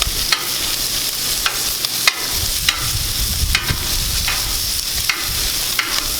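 Bacon and vegetables sizzle and fry on a hot Blackstone griddle, a loud steady hiss broken by occasional clicks and scrapes of a spatula stirring.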